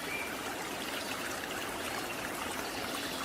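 A river stream flows with murky water in a steady, even rush of running water that continues unbroken, heard alone.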